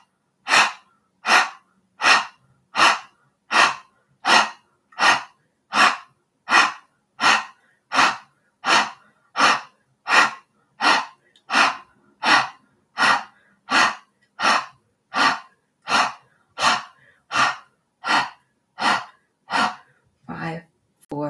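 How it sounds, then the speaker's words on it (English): Kapalbhati breath of fire: a long even series of about two dozen sharp, forceful exhales through the mouth, close and loud, pulsing at roughly one per second with silence between. "This is a strong, forceful exhale through the mouth with the stomach."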